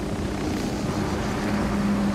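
Helicopter in Ghost Recon Wildlands, a dense steady rotor and engine drone with a low hum, continuous and fairly loud, no voices over it.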